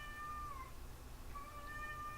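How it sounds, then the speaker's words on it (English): A cat meows twice in a quiet room, two drawn-out, moderately faint cries separated by a short pause, with no one talking. "You okay, Cat?"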